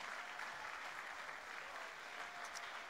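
Church congregation applause during a Sunday worship service, a faint, continuous patter of many clapping hands heard from a distance.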